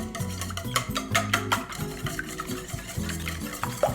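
Lemon juice and vanilla extract are stirred together in a bowl, giving soft, close, rhythmic scraping and swishing strokes that are fairly quiet, with no talking.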